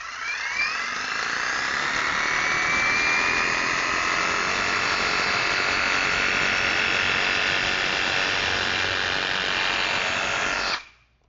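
TapeTech insulation saw cutting through an insulation batt, a steady, loud, high whirring buzz that holds for about ten seconds before stopping abruptly.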